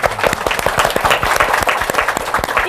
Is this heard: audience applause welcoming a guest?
yes